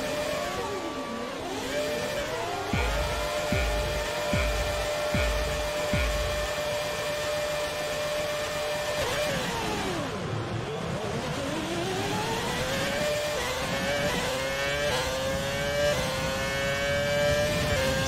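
A 2006 Renault R26 Formula 1 engine in a video game screams continuously at high pitch, revving up and down through gear changes with sweeping pitch, loud and close, with no talking.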